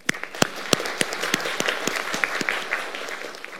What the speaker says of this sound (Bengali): সবাই জোরে তালি দিয়ে অভিনন্দন জানাই